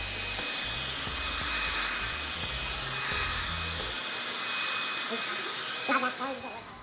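A hair dryer blows steadily and loudly while short hair is dried for a flattop cut, a continuous whooshing hum that drops off partway through as a voice talks.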